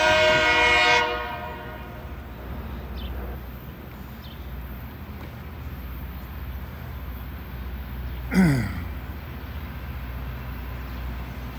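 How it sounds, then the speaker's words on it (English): A LORAM rail grinder train runs past, its loud broadband roar easing after the first second into a steady rumbling wash, with a sharp swelling squeal near the end. "Here comes the LORAM rail grinder. Look at all that smoke coming off that. He's grinding the rails,"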